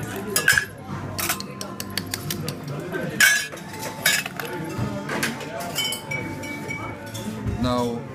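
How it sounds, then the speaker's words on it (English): A Hanky Panky cocktail being stirred with ice in a bar setting, with rapid, loud clinks and rattles of ice against glass and a bar spoon that continue throughout while a person talks. "Okay, I'm gonna stir with the pure ice."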